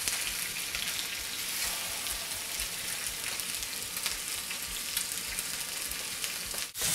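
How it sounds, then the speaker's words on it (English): Bacon wrapped filet mignon steaks sear in hot oil in a pan, giving a steady, even sizzle that runs throughout at moderate level, with no talking. "I'm going to go ahead and pop them in the pan so that they can sear on the first side"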